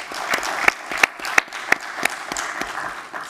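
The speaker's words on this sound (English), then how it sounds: "Maybe another round of applause." Brief round of applause from an audience at an economics research conference session, with a handful of sharp, distinct claps standing out from a thin patter of clapping.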